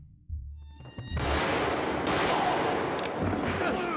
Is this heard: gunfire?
yes